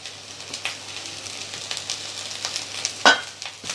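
Spoon stirring cooked rice into mango rice in a pan, a soft scraping and faint sizzle with a few sharper clinks, close and fairly quiet with no voices.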